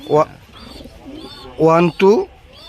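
A racing pigeon coos in a loft, with several close, throaty coos in short bursts and quiet gaps between them.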